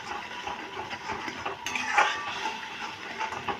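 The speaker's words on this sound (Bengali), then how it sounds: "এবার আমি সব উপকরণগুলোকে ভালো করে মিশিয়ে নিচ্ছি।" Soybean cutlet ingredients are mixed by hand in a bowl with sugar added, giving a steady, close scraping and clinking of utensil on dish that swells briefly near the middle, with no talking.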